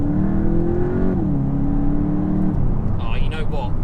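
Golf 8 GTI Clubsport engine pulling hard under acceleration from inside the cabin, a steady loud drone with a rising tone that shifts down once, as if through a gear change, before the pull tails off.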